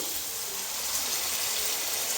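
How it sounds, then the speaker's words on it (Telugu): A glass of water poured into a pan of mutton curry, a steady close gush of liquid splashing without pause over two seconds. "1 గ్లాస్ వాటర్ పోసుకున్నాం."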